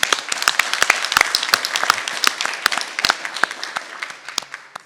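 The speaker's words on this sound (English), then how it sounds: "one more round of applause, folks." An audience at a school district board meeting applauds, with sharp individual claps from a modest crowd, close and fairly loud, thinning out toward the end, with no voices on top.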